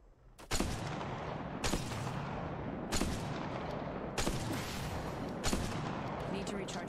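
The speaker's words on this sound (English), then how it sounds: "Getting shot at." Apex Legends Mobile gunfire arrives as a handful of heavy, booming shots spaced roughly a second apart over a constant rumbling battle backdrop, fairly loud and close, with no one talking.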